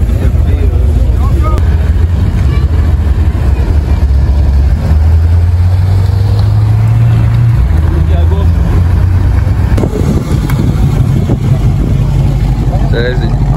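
A car engine purrs with a deep, steady low rumble that rises briefly in pitch at an outdoor car meet in a supermarket car park, with some wind buffeting the microphone.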